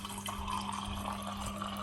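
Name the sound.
water dispensing from Samsung fridge after filter change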